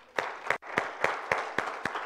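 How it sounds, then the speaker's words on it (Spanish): A small church congregation claps in sparse, separate bursts, about seven distinct claps spaced evenly across a couple of seconds, fairly faint and with no voices. "Dale un aplauso al Señor."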